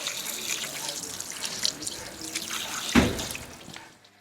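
A steady stream of water rinses compost out of a car's door shuts during a spring clean, giving a close, splashing hiss with one sharper gush near the end before it stops.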